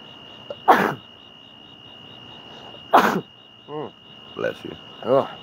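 Two sharp, loud sneezes from a person indoors, a couple of seconds apart, followed by brief sniffs and throat sounds over a faint steady electrical whine.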